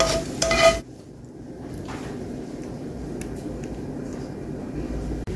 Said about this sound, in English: so I'm going to strain off the grease